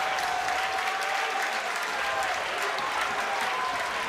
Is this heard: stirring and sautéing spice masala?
no